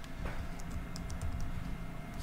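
Computer keyboard typing while entering text into a SolidWorks CAD drawing, a steady patter of light key clicks over a constant background hum, close and moderately quiet.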